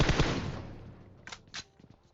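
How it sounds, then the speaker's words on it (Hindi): M4 rifle gunfire in PUBG Mobile, a loud rapid burst of automatic shots at the start that rings out and fades, followed by a few fainter scattered shots. "मैंने M4 चला दिया है"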